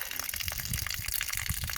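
Water gushing into the drain of the exhaust scrubber on a Young buggy, a steady, dense rushing splash that runs the whole time with no talk over it.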